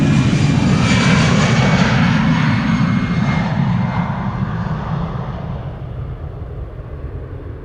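An EasyJet Airbus A319 jet departing Amsterdam Schiphol for Belfast gives a loud, close engine roar that slowly fades and dulls as it pulls away, with no one talking.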